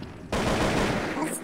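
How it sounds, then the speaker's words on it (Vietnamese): A burst of rapid gunfire from the online shooter game Truy Kích, a single loud, sudden blast that cuts in and rings for about a second, with a faint higher tone near its tail. "Tiếng sniper ở đâu nhỉ?"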